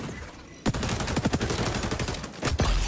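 Rapid bursts of automatic gunfire in the online shooter XDefiant, loud and close, arriving in quick clusters after a brief quiet start.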